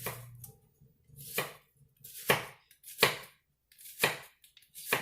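A very sharp knife slicing through an onion onto a board, six distinct chopping thuds spaced about a second apart, close and clear in an otherwise quiet kitchen.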